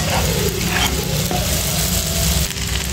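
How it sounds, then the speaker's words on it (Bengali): Onion, garlic and dried fish frying in oil with turmeric and salt, a loud, close, steady sizzle with a soft stirring scrape and occasional faint clinks. "এভাবে যখন ভাজা ভাজা হয়ে আসবে তখন কিছু ভাজা মাছ কাটা ছাড়াই দিয়ে দিবেন।"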